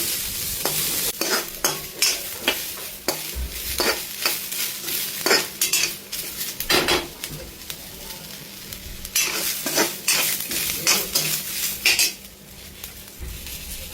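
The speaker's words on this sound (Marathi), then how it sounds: "खोबरं आणि लसूण मसाला आपण चांगल्या प्रकारे भाजून" Coconut and garlic masala is stirred and roasted in a pan, with a steady sizzle and frequent sharp scrapes and clinks of a spoon against the metal, close and continuous.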